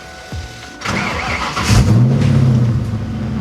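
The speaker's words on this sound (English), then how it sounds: "now we're gonna have to start the car and rev it" A car with a cam sensor fault code is started: the starter cranks briefly, then the engine catches and revs up before settling into a loud, close idle.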